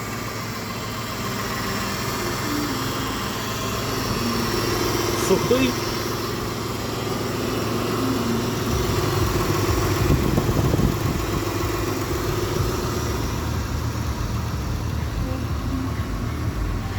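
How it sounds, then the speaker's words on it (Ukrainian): A Mitsubishi Pajero Sport's 3.0-litre 6G72 petrol V6 idles smoothly and steadily nearby, with a brief spoken word over the constant engine hum. "Мотор працює рівно."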